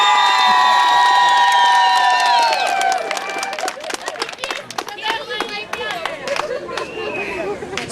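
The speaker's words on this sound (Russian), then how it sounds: "аплодисменты!" At a lezginka dance competition during a cheese festival, a crowd erupts in cheering for the fifth pair, then settles into sustained scattered clapping with chatter and voices mixed in.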